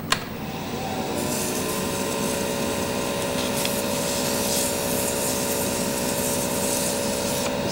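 Steady, continuous rubbing of 600-grit sandpaper against a wooden pen blank, likely spinning on a lathe, holding an even hiss with no talk for the whole stretch.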